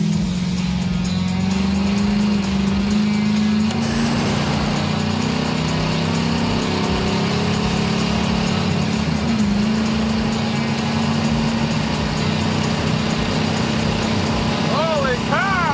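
Oldsmobile 455 V8, bone stock with exhaust and a Holley carburetor, running hard on a 125 shot of nitrous, a loud, steady engine drone with a constant low tone throughout and a rising whine near the end.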